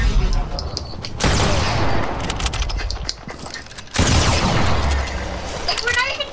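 Rapid gunfire bursts in Fortnite, loud and dense, with a sharp new volley cutting in partway through, while players talk excitedly over the shooting.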